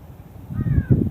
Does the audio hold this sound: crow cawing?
yes